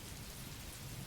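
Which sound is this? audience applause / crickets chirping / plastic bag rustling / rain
rain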